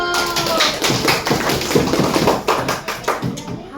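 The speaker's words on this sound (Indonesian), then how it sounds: "Ya, tepuk tangan dulu." Children clapping at an elementary school event, a dense burst of many small hands slapping together at once, fairly close and steady throughout with a few louder claps standing out.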